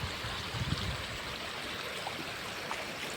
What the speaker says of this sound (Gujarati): જો મિત્રો આટલું પાણી જાય છે મિત્રો